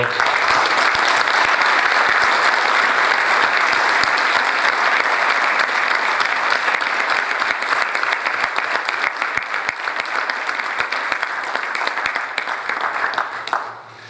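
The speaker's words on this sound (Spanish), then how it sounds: "para el que pido por favor un aplauso de reconocimiento" Sustained applause from an audience at a book presentation, dense and steady for about fourteen seconds before tapering off at the end.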